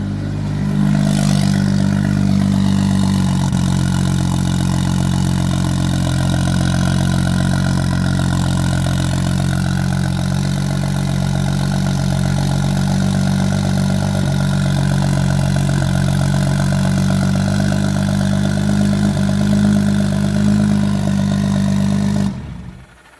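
A fully built single-turbo BMW N54 engine runs on its first start with a loud, steady idle and light mechanical clatter throughout, cutting off abruptly at the end.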